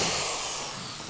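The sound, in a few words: power drill drilling a hole in a plastic container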